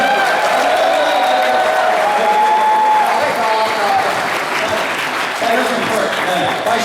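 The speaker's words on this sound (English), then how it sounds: "My round of applause." Audience applause at a San Diego Comic Con 2013 panel, a full room clapping steadily and loudly throughout, with voices and cheers mixed in.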